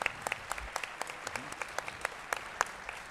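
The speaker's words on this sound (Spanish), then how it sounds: "Un merecido aplauso." A television studio audience at the Cineteca Nacional in Mexico claps, the individual hand claps fairly distinct and rhythmic, moderate and slightly distant, alone without talk.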